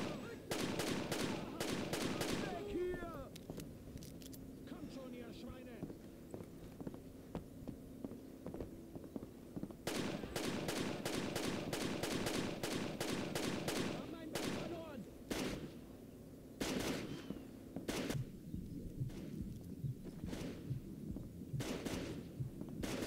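Bursts of rapid gunfire in the video game Rainbow Six: Lockdown crack in repeated volleys, loud and close, separated by brief lulls with a low hum underneath.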